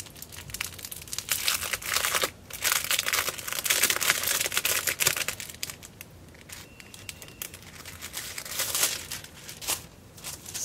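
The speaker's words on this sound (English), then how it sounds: "this is the tissue paper." Tissue paper crinkles and rustles during a craft supply unboxing, with steady close crackling and crumpling that swells and eases over several seconds, heard on its own without talk.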